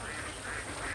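Ducks on a Kuttanad duck farm give a brief burst of quacking, fairly faint and steady for under a second with no voices over it.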